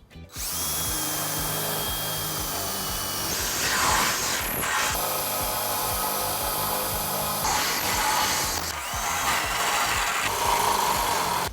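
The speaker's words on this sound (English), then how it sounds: "using a 5/8 drill bit, we're going to drill all 4 of our holes" A power drill with a 5/8 inch bit whines steadily as it bores hitch holes into a 1999 Ford Crown Victoria, running continuously with slight changes in pitch and load throughout.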